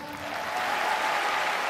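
A crowd applauds a fighter at a PRIDE Bushido mixed martial arts event, with steady, dense clapping filling a large arena that swells slightly and holds loud throughout.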